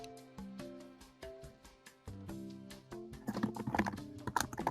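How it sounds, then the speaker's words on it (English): Quiet typing on a computer keyboard during a podcast, a run of soft key taps that speeds into a denser, louder flurry toward the end, with no talking. "Sorry about my typing."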